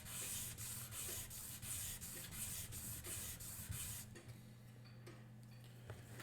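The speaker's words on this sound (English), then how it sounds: "And I'm sanding this at a bit more of an angle than the other way so I can tell if I've gotten rid of the scratches" Fine 2000 grit sandpaper, wetted with alcohol, rubs back and forth on a violin bow frog in quick rhythmic strokes, close and steady, then the scrubbing softens and thins out.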